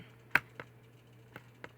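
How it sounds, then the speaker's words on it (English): A handful of sharp keyboard key clicks, spaced irregularly, over a quiet steady low hum. "And I'll be typing."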